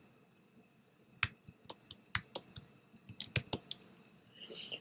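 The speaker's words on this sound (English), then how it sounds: "just click on it and start typing" Keyboard clicks and typing in a crafting workspace, a burst of sharp key strikes in irregular clusters, fairly close, followed by a brief soft rustle at the end.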